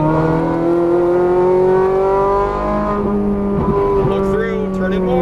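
Ferrari 430 Scuderia pulls hard on a race track in Las Vegas, its engine note rising steadily in a loud, close, continuous howl, with a brief shift or lift midway before climbing again.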